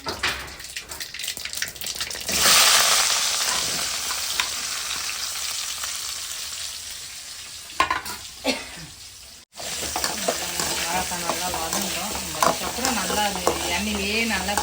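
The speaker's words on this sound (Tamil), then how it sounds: "வாழைக்காய் வந்து அப்படியே வறுத்து தாங்க எடுக்க போகிறேன் நான் இது கூட வந்து கருவேப்பிலையும் வாழைக்காயும் போட்டுக்கலாம்" Sliced plantain and curry leaves frying in hot oil while being stirred, a steady sizzle with scraping stirs, briefly interrupted near the middle before the frying resumes strongly.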